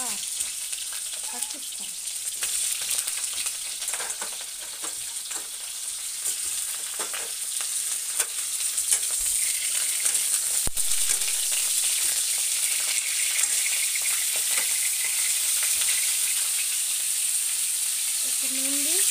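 Cauliflower frying in a pan gives a steady, bright sizzle with occasional stirs, close and fairly loud throughout, and a brief voice speaks over it.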